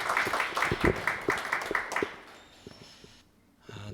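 A church congregation claps in welcome, a short burst of scattered applause that thins out and fades within a few seconds.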